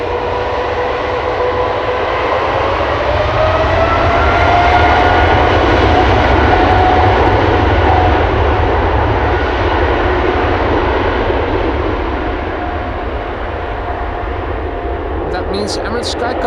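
An Emirates SkyCargo freighter jet rolls for takeoff at Amsterdam Schiphol, a strong, sustained engine roar with a slowly shifting whine that holds steady for the whole stretch, while a voice talks over it.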